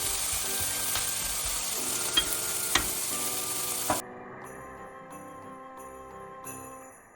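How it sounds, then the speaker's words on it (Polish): A filling of onions and mushrooms for Kashubian-style herring sizzles and fries in a pan with scraping stir clicks, the crackle fading sharply to a quieter hiss partway through. "Teraz to wszystko trzeba podsmażyć. Jakieś 2-3 minuty."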